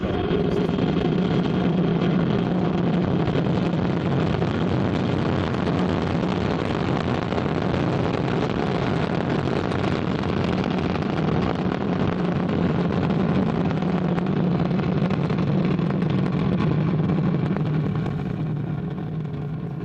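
A rocket's Vulcain engine ignites and lifts off, carrying a Brazilian geostationary satellite: a sustained, heavy broadband roar with deep rumble, loud and unbroken for the whole stretch, fading slightly at the end, with no voices.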